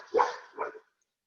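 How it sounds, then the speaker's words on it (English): Dogs barking indoors during a live power yoga session: two short, fairly loud barks close together, with no talk over them. "My dogs are barking."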